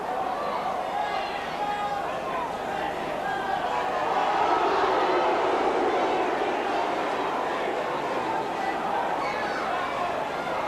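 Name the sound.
rugby league crowd reacting unhappily at Elland Road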